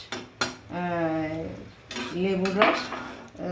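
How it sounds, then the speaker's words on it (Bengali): A metal lid set onto a cooking pot of tomato chutney on the stove: a few clanks and a ringing metallic scrape, then another short rattle and ring, close and moderately loud. "ঢাকনাটা ঢেকেছি, তাহলে তাড়াতাড়ি ফুটে যাবে।"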